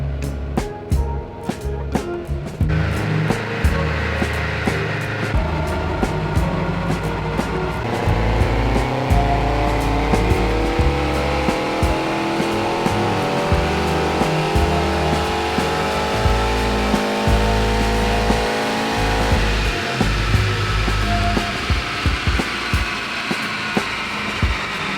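An AWD Honda Civic, tuned past 700 wheel horsepower, revs hard on a Mustang dyno, the engine climbing steadily through its range with a loud, sustained roar from close by, dropping back near the end.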